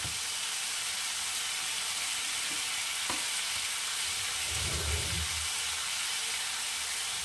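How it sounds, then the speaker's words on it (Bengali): Ground cumin and coriander powder fry in a pan with a steady soft sizzle and hiss, close and even, with a faint stirring scrape partway through and no speech. "ভাজা ভাজা হতে থাক।"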